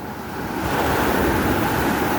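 Sea waves wash onto a beach with the tide fully in, a steady broadband surge that swells after a moment, close and loud, with wind buffeting the microphone and no voices.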